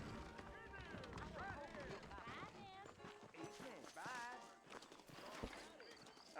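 Saddled horses in the video game Red Dead Redemption clop their hooves at a steady pace beneath a running voice and warbling background tones, with an occasional whinny.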